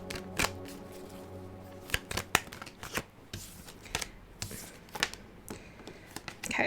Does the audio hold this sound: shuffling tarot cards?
yes